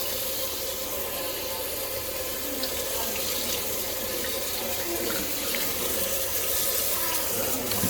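Tap water runs steadily into a sink, rinsing a George Foreman stand-up grill after washing with soap; a continuous, fairly loud splashing stream with no talk.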